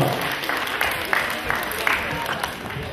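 Audience applause at a karate award ceremony during a Shinkyokushin regional championship, a steady wash of many hands clapping close and loud throughout, with a few sharper claps standing out and faint crowd voices beneath.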